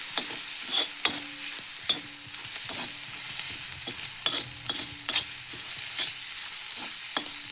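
Beaten egg stirred and scrambled in a hot frying pan, a steady soft sizzle broken by repeated sharp scrapes and taps of a spatula against the pan, close and with no talking.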